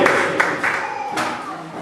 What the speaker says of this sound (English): Can we please clap for her?